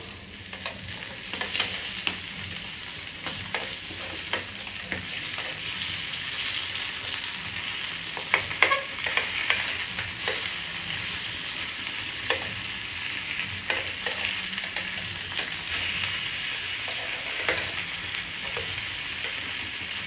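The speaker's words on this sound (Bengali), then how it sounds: "এই যে দেখুন মাছটা ঠিক এরকম করে ভেজে নিতে হবে" Lemon fish fries in a pan over a low gas flame, a soft continuous sizzle with scattered small pops and crackles throughout and no voices.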